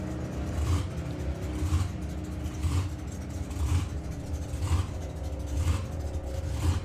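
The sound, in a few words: hot rod drag racing car making a run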